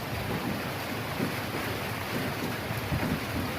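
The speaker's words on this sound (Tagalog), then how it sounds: "Lumalakas ang hangin." Strong typhoon wind in the Philippines roars as a dense, steady rush with gusty buffeting, loud and continuous throughout without any talking.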